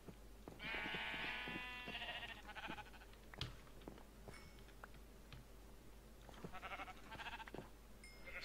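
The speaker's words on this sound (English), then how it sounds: "Just gonna kill these sheep for their wool." Minecraft sheep bleat repeatedly in a video game, several wavering blocky cries in bursts with short pauses and small game clicks and ticks between them, fairly close and alone with no talking.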